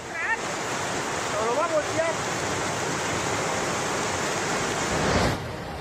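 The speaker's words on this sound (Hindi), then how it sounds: "पानी का सैलाब इतनी रफ्तार के साथ बह रहा है कि मानो अपने साथ सब कुछ बहा कर ले जाएगा" The flooding Teesta river in North Sikkim rushes past as a loud, continuous torrent, a dense steady roar with a few faint bird chirps and brief voices early on.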